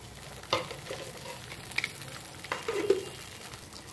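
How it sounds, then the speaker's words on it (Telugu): Mustard seeds and other tempering spices, dried red chillies and garlic cloves fry in a tablespoon of hot oil in a pan for coriander chutney, giving a soft, close sizzle with a few stirring scrapes and small pops. "సో వీటిని బాగా ఫ్రై అవ్వనివ్వాలి"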